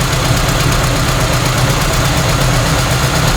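A Volkswagen engine with a single carburetor idles just after a cold start, a loud, close, continuous rumble with an even pulsing beat throughout.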